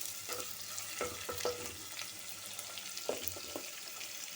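Onion sautéing in hot oil with green chili and curry leaves, a steady soft sizzle with occasional clicks and stirring scrapes, close and fairly faint, no voices.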